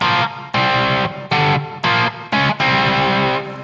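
An electric guitar with its distortion dialed back plays chunky, start-stop chords, loud and close, with short gaps between the stabs and a final sustained chord.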